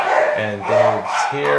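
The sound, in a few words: dogs barking in the background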